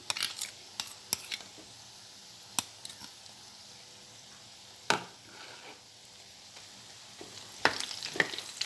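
Boondi batter drips into hot oil and fries with a soft, steady sizzle, punctuated by sharp clicks and scrapes of a perforated ladle against the pan, close by.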